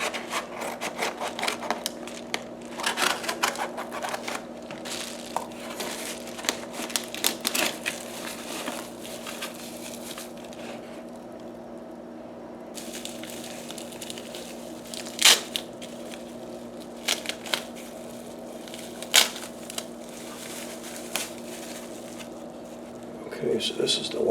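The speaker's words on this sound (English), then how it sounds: "let's open the packaging" Packaging for a bicycle rear light, a 5 LED 2 laser tail lamp, is opened by hand with irregular crinkles, rubs and sharp snaps up close, under a steady hum, with a person talking.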